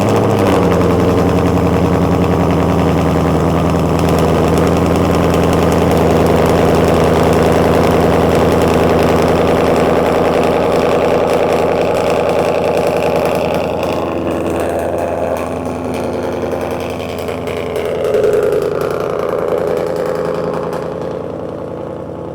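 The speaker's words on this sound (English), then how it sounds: "time to fire it up. See how this MRT sounds." A 2024 Mustang GT V8 with an MRT catback exhaust idles loud and rumbling inside a garage after a cold start, a deep steady burble that eases slightly toward the end, no talking.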